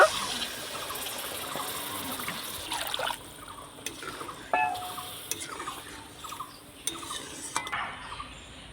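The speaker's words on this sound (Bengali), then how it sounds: "এবার আমি পরিমাণ মতন জল দিয়ে দিব" Water is poured into a pan of spiced potatoes and bottle gourd, a soft gush followed by stirring and light clinks of a utensil against the pan.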